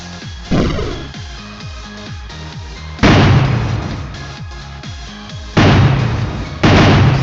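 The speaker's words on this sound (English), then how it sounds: "So I definitely added explosion noise to the broken floor." Explosion sound effects when the floor breaks in a Unity video game, several loud sudden booms with noisy bursts that fade out, separated by a run of smaller repeating thuds.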